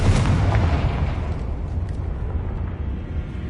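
Confringo fire spell in Hogwarts Legacy bursting in a loud, deep explosion that rumbles and fades over a few seconds.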